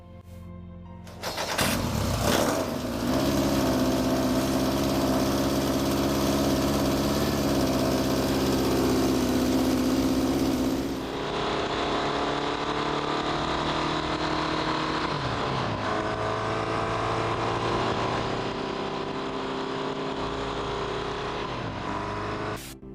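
A late-1960s Münch Mammut motorcycle engine starts up and runs steadily, loud and close, with a rough rumbling tone that eases slightly partway through and holds at a constant idle.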